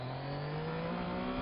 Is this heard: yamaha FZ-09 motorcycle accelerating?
yes